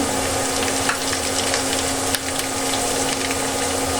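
Bay leaves going into hot oil, followed by cinnamon and cardamom for toasting, fry with a steady, close sizzle and crackle throughout, with a few brief pops and no talking.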